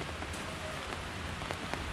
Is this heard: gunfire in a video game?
no